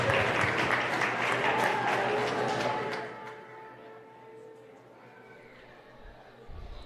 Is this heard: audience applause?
yes